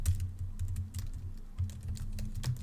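Steady, close typing on a computer keyboard while code is entered, with soft irregular keystrokes following one another with no talk.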